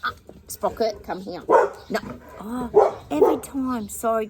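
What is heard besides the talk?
pet dog barking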